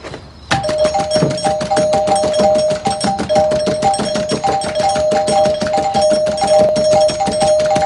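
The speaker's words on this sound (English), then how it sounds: "What the hell are you doing ringing our doorbell like that in the middle of the night?" A doorbell rings over and over in rapid succession at night, loud and insistent, its chime repeating in a relentless rhythm for several seconds.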